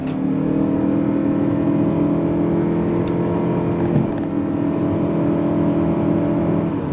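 2025 Mazda CX-50 Hybrid SUV accelerating on throttle, a smooth steady drone of engine and motor whine heard from inside the cabin, rising gradually with no distinct shift breaks.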